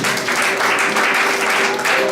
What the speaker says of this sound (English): Somebody give the Lord a round of applause.